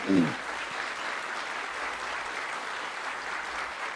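Congregation in a church celebration service applauding steadily, a dense wash of clapping that carries on evenly throughout, with a brief voice at the very start.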